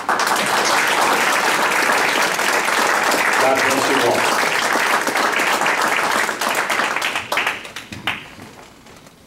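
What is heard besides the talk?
audience applause for veterans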